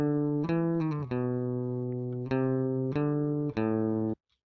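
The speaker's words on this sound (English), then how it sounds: "When we record an electric guitar directly, it sounds like this." A clean, thin electric guitar recorded directly with no amp plays a short lead phrase of sustained notes and chords, dry and bright with no amp color, then stops abruptly.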